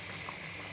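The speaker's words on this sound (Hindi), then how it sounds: "यहाँ पर देखिए बिरयानी पक रही है" Biryani cooking in a pot on the stove, giving off a steady, soft, continuous simmering hiss and bubble with no talking.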